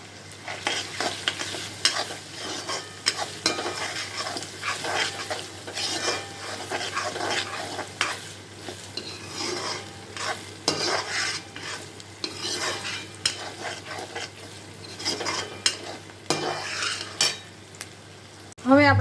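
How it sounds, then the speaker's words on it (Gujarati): Onions and tomatoes with turmeric sauté in a pan for a Gujarati green pigeon pea curry, a steady close sizzle broken by repeated scraping and clinking stirs of a spoon against the pot, with no talking. "હવે આપણા ડુંગળી ને ટમેટા છે તે મસ્ત સતળાઈ ગયા છે"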